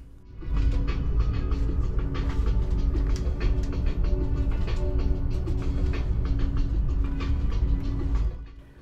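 Inside the Afrosiyob high-speed train running from Tashkent to Samarkand, a steady loud rumble and hum of the moving carriage with faint rhythmic clicks, starting and ending abruptly.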